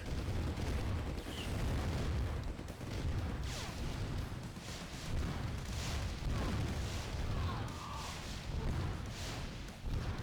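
Battle in C&C Red Alert with steady, dense gunfire and rumbling explosions filling the scene, continuous and loud throughout with no letup.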